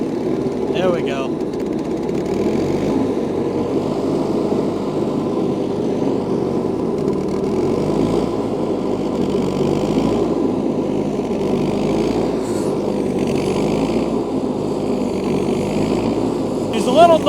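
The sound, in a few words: John Deere 316 lawn tractor engine revving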